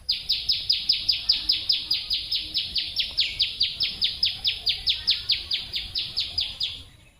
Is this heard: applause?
no